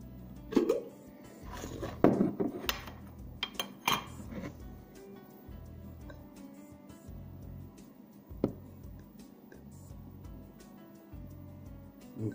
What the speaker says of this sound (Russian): Беру ложку манки.